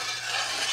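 A thickening mixture being whisked in a pan over low heat, a dense continuous scraping, swishing hiss up close with no pauses across the short span.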